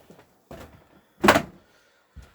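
A caravan door is opened by someone stepping inside the van. There are a few soft thumps and clunks spread out over two seconds, with one louder knock in the middle. No one speaks.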